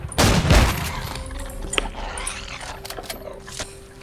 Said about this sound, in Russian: Да, миниган рулит.